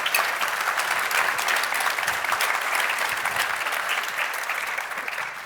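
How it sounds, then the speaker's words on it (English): An audience applauds panelists at a panel discussion on AI, a dense, steady wash of many hands clapping that holds at even loudness for several seconds before easing slightly at the end. "How about a big round of applause for our panelists?"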